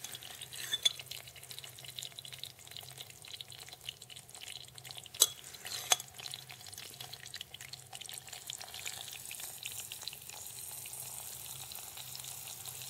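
Dry ice fizzing and bubbling in 91% isopropyl rubbing alcohol, a quiet, continuous crackling hiss broken by a few sharper pops, with no talking.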